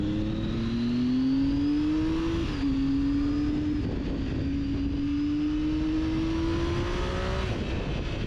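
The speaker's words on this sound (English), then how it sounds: "This bike has a real gem of an engine." A motorcycle engine revs and climbs through the gears while riding a scenic desert route, the tone rising steadily, dropping at a shift, then rising again, loud and close with wind rush and no talk.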